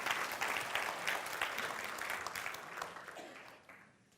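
A church congregation applauds together, a steady wash of clapping from many hands that slowly fades away toward the end.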